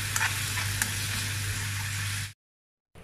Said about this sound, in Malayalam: ഇതൊന്ന് അടുക്ക് മൂടി തുറന്നിട്ട് ഒന്ന് ഇളക്കി കൊടുക്കണം.